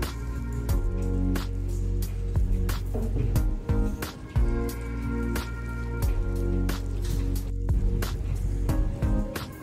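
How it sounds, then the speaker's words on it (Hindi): Gram flour batter is stirred in a bowl as water is added, producing repeated wet squishes and sharp spoon clicks in an irregular rhythm, close and moderately quiet. "थोड़ा सा पानी और डाल लेते हैं।"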